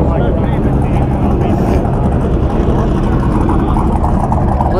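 A high-horsepower drag Mustang engine lopes loudly and close, a dense, rough, uneven rumble that fills the whole stretch without pause.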